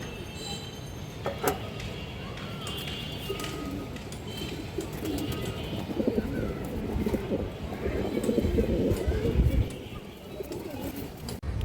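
Healthy, fit flying pigeons at a pigeon sale cooing in low, throaty, continuous rolling calls, louder toward the end, with some faint background noise and occasional clatter.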